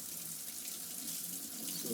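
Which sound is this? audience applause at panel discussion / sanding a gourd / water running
water running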